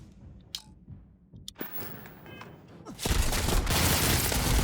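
Gunfire from a weapon in the game Starfield, a few sharp scattered shots followed by a loud dense burst of rapid firing that fills the last stretch of the clip.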